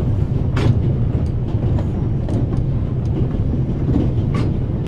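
A passenger train rolls along at steady speed in a Swiss rail journey scene from the game The Raven Remastered, with a continuous low rumble, close, and faint rhythmic wheel clicks over the rails, no voices.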